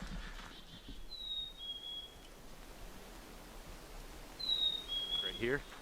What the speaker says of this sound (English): sounds like the bird is saying cheeseburger